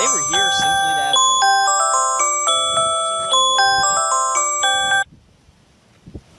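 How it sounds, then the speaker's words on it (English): A phone ringtone plays a repeating electronic chime melody, loud and close for about five seconds before cutting off abruptly, followed by quiet room noise. "I forgot to shut the ringtones off"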